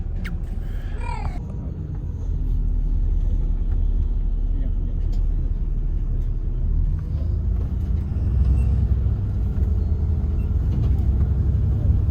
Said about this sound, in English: The bus is filling up and we are about to set sail.